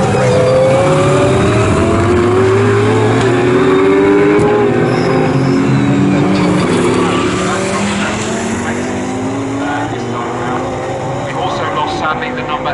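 GT race cars at the Snetterton circuit roar past in a GT Cup Championship race, loud engine notes rising and falling with gear changes and fading as they go by, with a race commentator talking over them.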